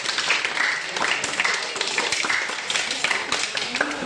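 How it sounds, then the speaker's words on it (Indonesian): A group of students clapping hands in a classroom after a prayer, brisk, uneven claps from several people together, with some talking mixed in. "Tepuk tangan dulu untuk kalian semua."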